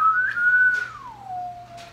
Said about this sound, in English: Do the whistle, I can't whistle.